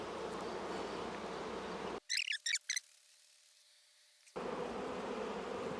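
Honey bees buzz around a queen cage at an open hive, a dense, steady hum that cuts out briefly, leaving a few short, high buzzy squeaks before the drone resumes.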